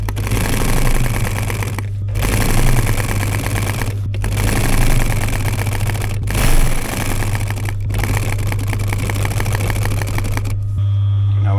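A sewing machine stitches piping onto a diamond-stitched campervan cushion in several long, loud runs of rapid mechanical whirring, separated by brief pauses, close up.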